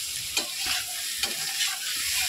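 Egg curry fries in a pan with a steady, close sizzle, broken by about four sharp spatula scrapes as it is stirred.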